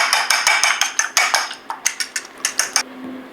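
Two eggs whisked in a small bowl, a quick series of bright, close clinking taps of the whisk against the bowl in a steady rhythm, pausing briefly midway and stopping near the end.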